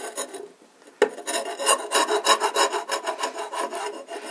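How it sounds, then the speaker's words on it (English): A scraper rasps along the grain of an antique wooden sewing machine cabinet, a sharp tap followed by a steady run of repeated close strokes with no talking. "you can use a scraper. Again, going with the grain,"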